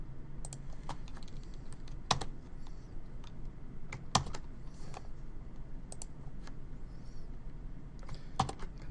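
A computer keyboard is tapped steadily over low background hum, with scattered sharper, louder keystrokes such as shortcut presses mixed in; close-up, unhurried, and no one speaks.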